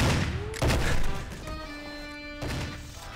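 Gunfire from a revolver in the video game GoldenEye: Source, a few sharp crashing shots mixed with game noise and tonal effects, fairly loud, without talk.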